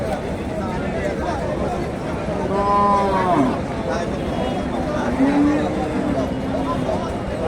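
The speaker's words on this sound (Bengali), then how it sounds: "ফ্রিজিয়ান গাভি" A Friesian cow at a crowded cattle market moos twice, a drawn-out low call followed by a shorter one, over a steady background of crowd chatter and market noise.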